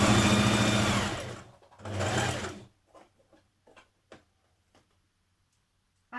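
A sewing machine stitches a summer jumpsuit seam in two loud, fast, whirring bursts, followed by scattered soft clicks and taps as the fabric is handled, then near silence.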